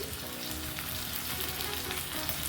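Cut arbi (taro) pieces fry with masala, salt and kasuri methi in a pan, giving a steady crackling sizzle with soft stirring underneath and no voices.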